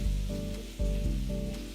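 Potatoes frying in a pan over medium heat give a steady, close sizzle with low bumps of stirring or scraping throughout.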